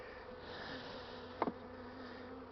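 Bees at a beehive give off a faint, steady buzzing hum, with one brief, slightly louder buzz passing close by.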